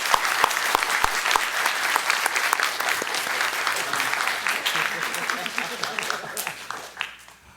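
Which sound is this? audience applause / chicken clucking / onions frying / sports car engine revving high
audience applause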